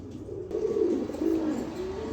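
Low, throaty coos from a pair of Black Danish pigeons repeat in a gentle rolling rhythm, close by, over a faint steady hum.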